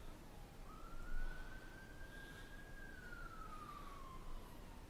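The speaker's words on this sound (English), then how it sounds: "I live in downtown, right? So there's gonna be sirens." A police car siren wails faintly in a city downtown, one long rising and falling tone sweeping past over a low background of traffic noise.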